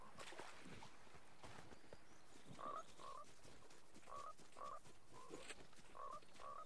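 A frog croaks repeatedly in the Fortnite video game, short pitched croaks recurring every second or so at low volume over faint background noise and footsteps.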